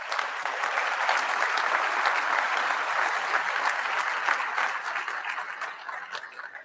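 Sustained applause for the instructors at a Boston Fire Academy recruit graduation, a dense, steady crowd clapping that holds loud and even throughout before easing slightly at the end.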